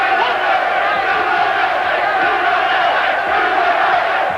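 Boxing crowd in an arena in Beaumont, Texas, chanting together at a championship bout, a loud, dense, sustained roar of many voices with no break.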